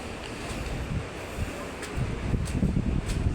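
Strong typhoon wind roars and buffets the microphone in gusts during flooding from Typhoon Tino, loud and continuous, with no clear talk.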